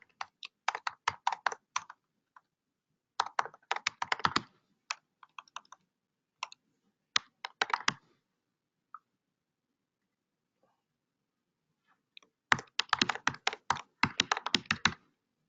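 Fingers type a name for an SSH key on a computer keyboard in quick bursts of clicky keystrokes, pausing for a few seconds between bursts, close and alone with no talking.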